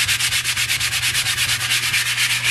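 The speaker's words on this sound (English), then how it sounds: "The 80 grit will take it off pretty quick." Hand sanding with 80-grit sandpaper strips old varnish from a small wooden barn sign, a steady, rapid back-and-forth rasping scrub repeating evenly and close up, with no voices.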